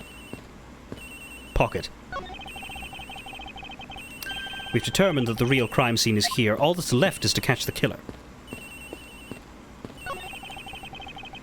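A telephone rings aboard an airplane in the Ace Attorney Investigations video game, repeated electronic ring bursts heard mostly before and after a spoken line, with game music and talk over the middle.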